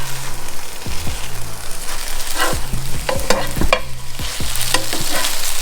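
Oong Choy (water spinach) stirred and tossed in a hot pan, a spatula scraping and clattering in repeated strokes over a continuous close sizzle, with no voices.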